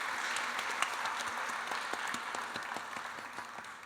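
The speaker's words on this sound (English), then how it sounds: "Please give Sri Prasanna a big hand of applause" An audience at a Carnatic music arangetram gives a performer a round of applause, a steady wash of many hands clapping with a few sharper individual claps standing out, moderately distant and without talk.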